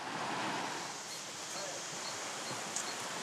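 Steady broadband rushing of a river in Martinique, captured by permanently installed observatory microphones near a village below rock piles; a continuous wash of flowing water with wind-like hiss, no voices.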